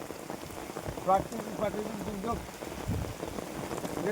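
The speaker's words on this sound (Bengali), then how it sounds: "প্রচুর ভারী বৃষ্টি হচ্ছে" Heavy rain pours steadily at night beside a river during a storm on a fishing trip, a dense continuous hiss with a voice speaking intermittently underneath.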